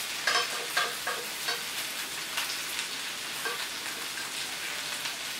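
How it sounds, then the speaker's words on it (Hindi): Turmeric and red chili are stirred into okra frying in a pan, a steady crackling sizzle with scraping stirs at the start, close and without talk. "और इसमें हम हल्दी और रेड चिली डाल देंगे।"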